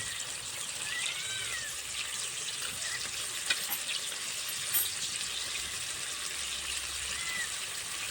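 A Bengali bata fish curry fries in a pan while it is stirred with salt, a soft, continuous sizzle with faint scraping strokes and a couple of small clinks.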